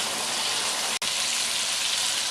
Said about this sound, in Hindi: ये टमाटर मैंने डाल दिए हैं और लहसुन भी डाल दिया है। तो अब ये गलने लगे हैं